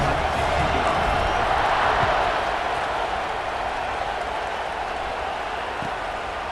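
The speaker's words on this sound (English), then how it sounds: "They're set to kick it off, and this crowd now ready to get behind them." Steady roar of a stadium crowd before a kickoff in EA Sports College Football 26, loud at first and easing slightly, a continuous broad wash of cheering with no talk over it.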